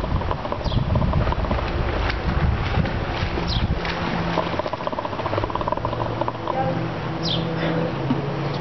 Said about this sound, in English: Pardon me if it's a little windy and if you can't hear me